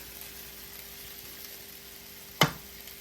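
Peeled, diced potatoes fry in a pan with a steady, low sizzle, and a single sharp clatter of stirring cuts in near the end.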